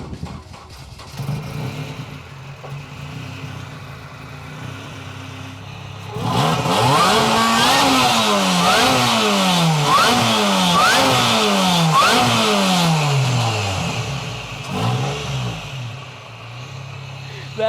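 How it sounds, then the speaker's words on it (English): A K24-swapped Honda mini-truck with a custom header, idling quietly at first, then revving hard in a run of rising and falling blips, loud and close, before settling back to idle; voices talk faintly at the start. "Let's fire her up, man."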